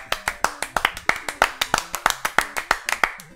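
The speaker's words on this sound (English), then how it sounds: "Let's give Andy a round of applause." Hands clap in a steady, fairly quick rhythm, sharp distinct claps close by from a small group during a gaming show, with faint voices underneath.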